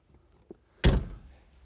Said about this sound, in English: that is the button for opening the door